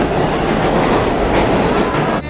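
Loud, constant rumble and clatter of a moving New York subway car, with rolling wheel noise filling the space and no clear voices.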